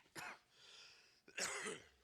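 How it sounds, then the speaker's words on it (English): A video game character in The Complex coughs twice, a short harsh burst followed after a pause by a longer, louder rasping cough, close and alone. "Oh no, he coughed."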